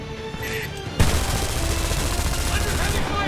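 Heavy gunfire in a Homefront firefight: a quieter stretch of distant shots gives way to a sudden loud burst, then a dense, continuous fusillade of overlapping automatic fire that stays loud to the end.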